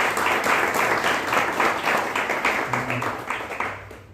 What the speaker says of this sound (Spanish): le pido un fuerte aplauso para Dios y al Espíritu Santo